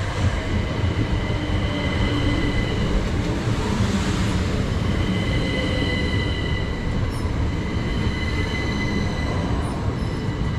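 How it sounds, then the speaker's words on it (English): A passenger train, the 1708 service to Hastings, rolls into an East Sussex station with a steady, loud rumble of wheels on rail and high squealing tones throughout, no voices heard. "arriving in now is going to be the 1708 service to Hastings"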